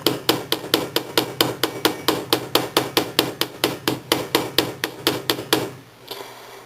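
A hammer flattens 16 gauge wire for bead and wire napkin rings in about twenty sharp, evenly spaced metallic strikes at a steady quick rhythm, close and clear, ending with a brief quiet rustle.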